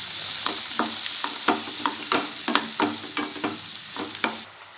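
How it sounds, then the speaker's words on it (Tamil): Chopped tomatoes and onions sizzle in a pan as a spoon stirs them in a quick, regular rhythm of scraping strokes, close and loud without any talk. "நான் 4 தக்காளியை சின்ன சின்னதாக வெட்டி வச்சுருக்கேன், அதை போட்டுக்கிறேன். இதையும் சேர்த்து நல்லா மிக்ஸ் பண்ணிக்கலாம்."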